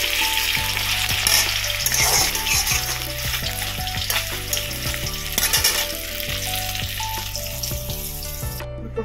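Vegetables fry and sizzle in a wok, a loud continuous hiss with stirring scrapes, with no talking.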